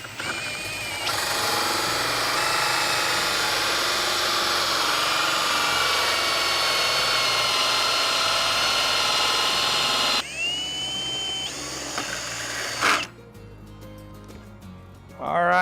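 Power drill bores a hole through a wooden door for a deadbolt, a loud steady whine held for about ten seconds, then winding down in brief bursts before stopping.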